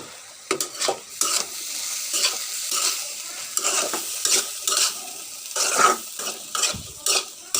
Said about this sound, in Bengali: এবার আমি দেখে একটু নেড়ে চেড়ে নেব